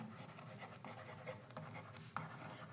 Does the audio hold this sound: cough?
no